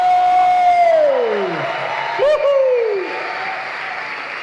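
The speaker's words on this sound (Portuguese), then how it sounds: "levanta um aplauso e um brado de louvor ao Rei" Worship crowd cheering and applauding at a Christian youth event, a broad wash of clapping with whoops and shouts, one voice calling out above the noise, fading slightly toward the end.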